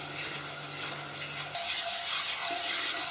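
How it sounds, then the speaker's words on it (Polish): Wheat flour being stirred into melted butter in a pan to make a roux, a soft continuous sizzle with scraping stir strokes, close and steady, with a low hum fading partway through and no talking. "wrzucam odmierzoną porcję mąki i wszystko dokładnie mieszam"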